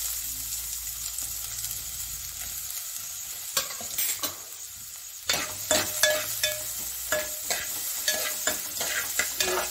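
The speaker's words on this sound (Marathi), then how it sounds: "आता ह्या तेल तापला, मग ह्या फोडणीसाठी ह्यो कांदो" Chopped onion hits hot oil for a Malvani-style tempering for sea clams, giving a steady loud sizzle with bursts of crackling and repeated scraping stirs in a pan. No talking.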